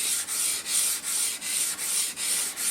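A knife drawn in steady, repeated strokes across a wet 400 grit whetstone, each pass a close, even scraping rub in a regular rhythm of about three strokes per second, with no talking.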